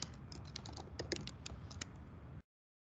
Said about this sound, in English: you're going to double click and then start typing